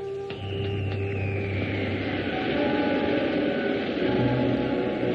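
Rocket ship pilot jets fire as a film sound effect: a steady, rushing roar of noise with a low hum beneath, holding evenly throughout.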